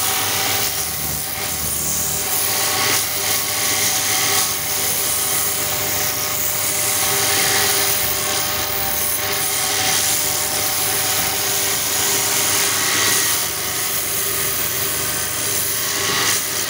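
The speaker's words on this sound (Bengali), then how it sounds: "রুটি তৈরি করা পিড়ে এখন এনারা তৈরি করে পালিশ করছে।" A machine polishes a wooden roti rolling board, giving a steady, loud, continuous whirring grind that holds without a break.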